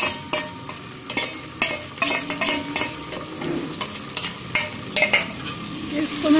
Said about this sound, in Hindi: अब इसमें हम डालते हैं शिमला मिर्च। थोड़ा सा इसको भून लेते हैं।